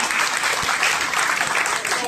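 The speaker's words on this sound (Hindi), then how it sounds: "जोरदार तालियां" Loud audience applause at a drama performance of the Mahabharata play about Krishna, a thick continuous roar of many clapping hands filling the space, with voices mixed into the crowd noise.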